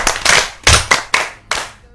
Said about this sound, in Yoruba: Ó yá ẹ pàtẹ́wọ́ fáwọn olùkọ́ yín